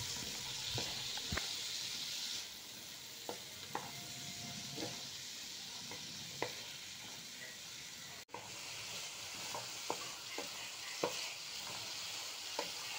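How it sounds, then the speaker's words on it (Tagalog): Sautéed onion, garlic, carrots and sweet potato are stirred in a pan, with a steady sizzle and hiss under scattered close scrapes and taps of the utensil. "pagkatapos natin maggisa ng sibuyas at bawang, ilagay na rin ang carrots at saka kamote. Halu-haluin lang ulit."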